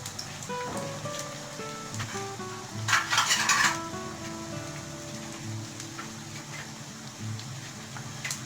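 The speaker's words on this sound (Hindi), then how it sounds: "ये बड़ी अच्छी तरह फ्राई हो रहे हैं आपके सामने।" Lentil balls (namkeen bhallay) frying in hot oil give a steady close crackle and sizzle, with a brief louder bubbling burst partway through and faint kitchen clatter beneath.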